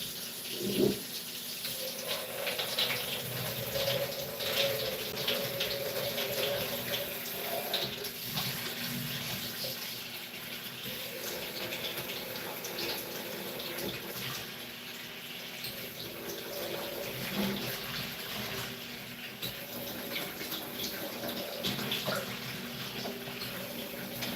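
Water runs steadily from a tap for a long stretch while something is rinsed out, a constant splashing gush with small shifts in flow and no voices over it.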